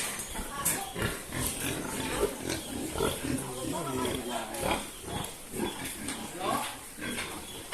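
Pigs on a family farm grunt and squeal repeatedly in irregular bursts, close and fairly loud, mixed with people talking nearby.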